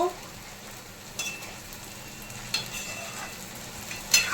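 Chopped vegetables sizzle while being heated in a pan, a soft, steady hiss close by, punctuated by three brief scraping stirs spaced a second or so apart, with no talking.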